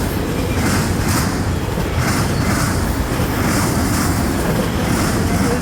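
CN freight train M357 rolls past at Ladysmith, Wisconsin, producing a loud, close, unbroken roar with a faintly pulsing rhythm of wheels over rail joints.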